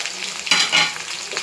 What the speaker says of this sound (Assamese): এয়া পিঁয়াজ দিছোঁ।